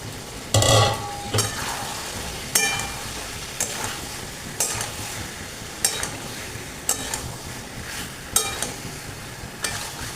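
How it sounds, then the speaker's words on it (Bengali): Boiled potatoes stirred and fried in a pan of cooked-down spice paste for potato dum with white sesame, with a steady sizzle under repeated scraping strokes and clinks of a utensil against the pan, roughly every second. "মশলাটা কষানো হয়ে গেছে, এবারে আলু সিদ্ধগুলো দিয়ে দিলাম।"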